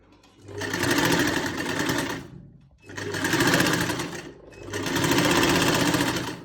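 An electric sewing machine stitches a salwar waistband in three loud bursts of rapid whirring, each lasting about two seconds and separated by brief pauses, close and alone.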